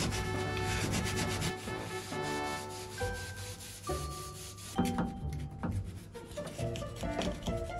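A bathtub is scrubbed with a cut Shinex pad, giving repeated rough rubbing strokes that carry with a squeaky, ringing quality, close and fairly quiet, with no talking.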